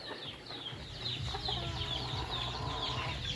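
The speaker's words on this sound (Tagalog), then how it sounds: "mga manok na siya" Several chickens cluck and chatter continuously at close range, overlapping calls with a steady low background rumble.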